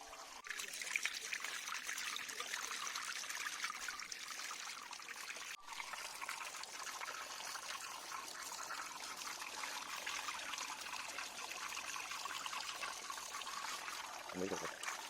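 Hill plums are washed under running water: a steady trickle and stream of tap water runs close and moderate through the whole stretch, with faint handling noises.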